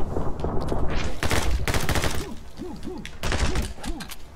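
Machine gun fire in the video game My Friend Pedro: loud, close bursts of rapid shots in two main volleys, broken by short hooting, whooping tones between them.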